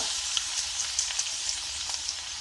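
Ginger and garlic sizzle in hot coconut oil, giving a steady, close frying hiss with small pops and crackles throughout and no voices.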